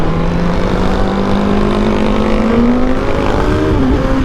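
Suzuki GSX-S1000 motorcycle with a Yoshimura R11 exhaust and autoblip, revving loudly and steadily close by, the engine note climbing through the gears without any talking.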